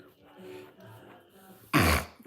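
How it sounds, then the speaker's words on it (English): A dog struggling to breathe gives one loud, harsh snorting burst near the end, after quieter low snuffling sounds. "Poor dog can't breathe."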